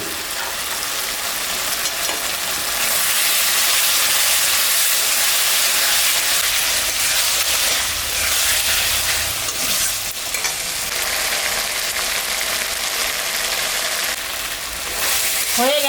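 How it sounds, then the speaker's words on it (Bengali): Spice masala with tomatoes frying in a pan, a loud, steady sizzle and hiss running continuously with faint stirring scrapes, no voices. "হয়ে গেছে মশলাটা ভাজা"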